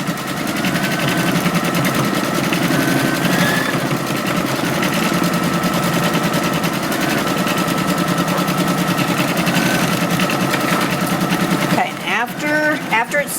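An embroidery machine stitches a placement line for an appliqué design, a fast, steady mechanical whirr and needle chatter running continuously at close range before a brief change near the end.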